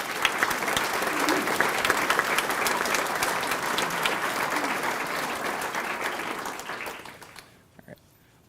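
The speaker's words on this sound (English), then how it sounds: "can we give them and teachers a round of applause?" Graduates, teachers and guests at a 2017 academy graduation ceremony give a long round of applause, dense and steady for several seconds before fading out, with a few faint claps and murmurs near the end.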